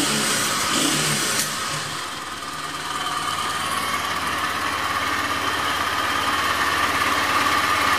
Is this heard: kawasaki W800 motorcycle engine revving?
yes